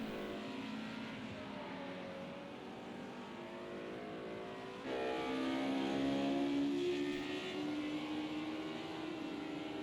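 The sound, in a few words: BMW race car engine in video game Project CARS 2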